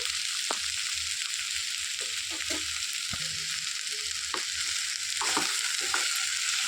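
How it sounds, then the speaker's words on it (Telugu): Tomato pieces with ginger-garlic paste fry for a Hyderabadi veg dum biryani, a constant close sizzle and hiss of hot oil punctuated by clicks and scrapes of a stirring spoon against the pan. "సన్నగా తరిగి పెట్టిన టమాటా ముక్కలు కూడా వేసేసుకొని వేయించుకోవాలండి"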